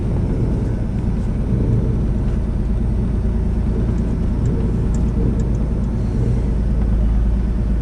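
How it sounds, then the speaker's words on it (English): A 1988 Pontiac Fiero GT idles and creeps in reverse into a driveway, a steady low engine rumble close by that stays even throughout, with no voices. "we're just going to back this one right into the driveway"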